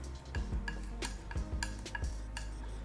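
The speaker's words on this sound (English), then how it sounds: "So I'm going to mix that orange together, then I'm going to grab a little bit of primary blue and mix that in." Orange and primary blue paint stirred together with a tool against a palette or dish, producing soft, repeated scraping and tapping strokes in an irregular rhythm, close and quiet.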